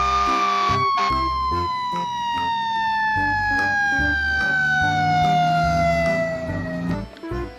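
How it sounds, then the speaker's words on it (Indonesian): A toy fire truck plays its electronic siren close up, a loud descending wail repeating over a rhythmic electronic beat, with a voice talking over it. "Ada sebuah mainan mobil pemadam kebakaran."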